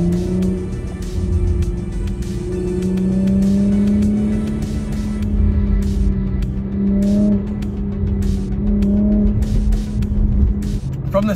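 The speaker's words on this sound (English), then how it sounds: "the little downshifts when you're coming to a stoplight or coming to a stop really sound good" A Porsche Macan GTS on its stock engine and exhaust drones steadily while driving, with several short downshift blips and a few faint crackles along the way, close and continuous, with a little talk.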